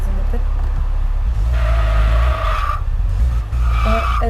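Car from the racing video game Test Drive Unlimited driving loudly with a constant engine rumble, its tires skidding and squealing in bursts, while a person talks over it.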